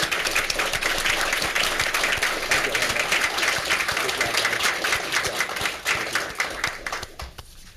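Sustained audience applause at a college Board of Regents meeting honoring four inductees: dense, steady clapping from a roomful of people that thins and fades over the last second or two.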